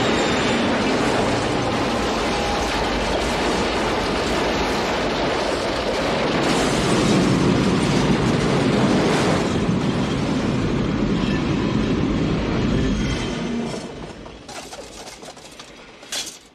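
A train speeds along a railway track in the film Back to the Future, a loud, dense roar with rumbling wheels that builds and then fades away near the end.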